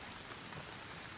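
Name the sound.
rain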